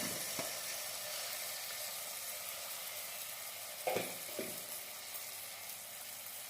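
Tomato, turmeric, salt and asafoetida frying in oil in a pan, a steady close sizzle with a few sharper crackles and stirring knocks partway through.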